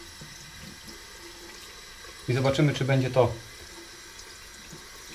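A 110mm TTO safety razor is rinsed under a running tap, a steady soft water hiss with a voice briefly talking over it midway.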